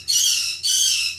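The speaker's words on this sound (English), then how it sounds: "birds that refuse to settle" Two harsh, shrill bird squawks in quick succession, loud and close, each about half a second long.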